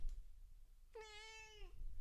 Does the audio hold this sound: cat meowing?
yes